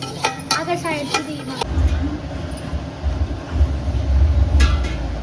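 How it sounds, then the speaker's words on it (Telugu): Spices and yogurt being stirred in a pot for paneer biryani, low scraping and rumbling stir sounds with a faint sizzle, following a short burst of talk at the start. "ధనియాల పొడి కారం ఉప్పు పసుపు వేసేసినాక కలపాలి"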